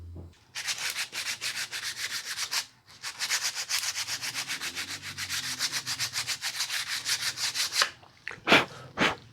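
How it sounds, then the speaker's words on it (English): Steady rhythmic back-and-forth scrubbing of coarse sandpaper on a bass guitar headstock while fitting tuners, loud and close, continuous strokes with a brief pause, then a few final rubs. "going to see if I can find some more aggressive sandpaper to use"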